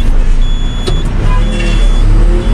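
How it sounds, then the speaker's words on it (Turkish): A car rolls past nearby on a city street where a Hidromek Supra backhoe is working, a steady close engine and tire rumble that stays loud through the short stretch. "Solunda araba."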